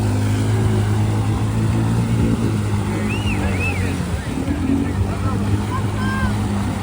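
A 300 four-wheeler ATV races at a mudfest at Gregory Lake RV Park, its engine a loud, continuous droning whine that rises and falls in pitch, with faint voices in the background.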